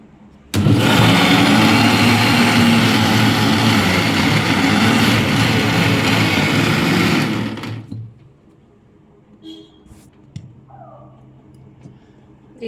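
Mixer grinder blending fried tomatoes and green chillies into chutney, a loud continuous whirring motor for about seven seconds that cuts off, followed by quiet kitchen clatter.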